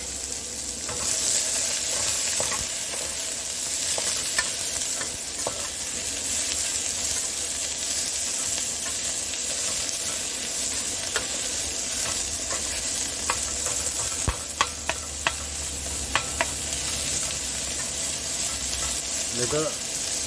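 Onions fry and are stirred in a smoking pan, a loud, unbroken sizzling hiss with occasional clacks of the stirring utensil, a few faint voices in the background.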